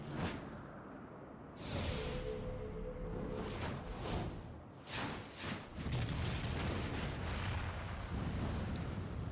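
A cannon breaking apart in the video game Final Fantasy XIV Stormblood: a series of loud booming impacts and crashing bursts with whooshing debris, layered over a dense rumbling game soundtrack throughout.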